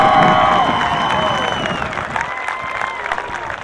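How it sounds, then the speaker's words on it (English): An audience in Emporia, Kansas applauds the senior members of a high school marching band and dance team, a sustained wash of clapping and cheering with a voice and faint tones mixed in. "let's applaud the senior members of our Marching Hornets and Stingers Dance Team"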